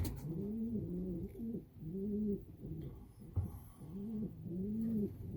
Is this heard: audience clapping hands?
no